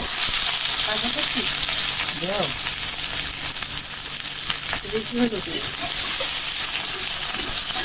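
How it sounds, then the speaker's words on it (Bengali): Onion frying in hot oil in a pan with dried chili and nigella seeds, a loud continuous sizzle and hiss with stirring, and brief speech over it. "এখন দেই পেঁয়াজ"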